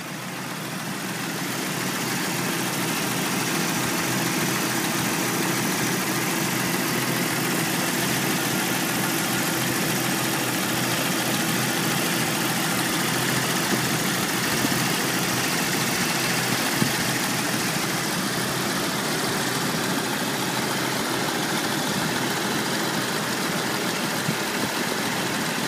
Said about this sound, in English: I'm going to show you the engine running.